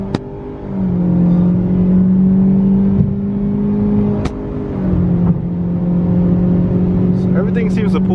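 A turbocharged Mitsubishi Lancer runs at full throttle in second gear, its engine holding a loud, steady drone with small shifts in pitch, heard close with no one speaking.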